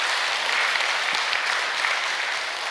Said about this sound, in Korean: 다시 한번 감사의 박수를 크게 올려주시면 고맙겠습니다